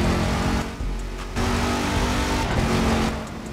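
A Dodge Hellcat engine accelerates hard in The Crew 2 racing game, a loud, continuous roar that climbs and dips briefly around gear changes, running close and steady throughout with no talk.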